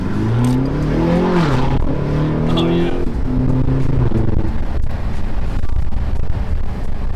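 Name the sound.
BMW X5 M twin turbo V8 exhaust revving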